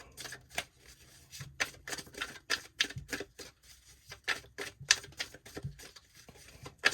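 Tarot cards riffled and shuffled in quick, crisp bursts, close by, with short pauses between each flurry of snapping.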